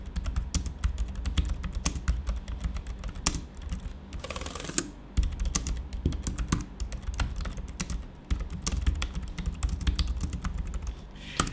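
Rapid typing on a Logitech K480 portable keyboard, close and distinct, with a dense run of light plastic key clacks in uneven bursts and a brief pause midway.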